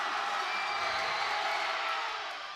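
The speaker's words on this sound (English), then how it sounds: "this crowd is loving it" Basketball crowd in a high school gym at a boys' game between Abilene High and Abilene Wylie, a steady dense roar of cheering and shouting during a free throw, loud and continuous before easing slightly at the end.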